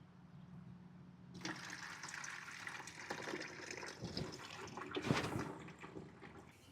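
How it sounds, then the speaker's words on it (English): A small RV sink drain pump in a 2024 Storyteller Overland Class B van hums while gray water gurgles and drains steadily, with a brief louder splash near the end, faint and close, no voices. "I'm just running the sink drain pump for a couple seconds and then dump the gray."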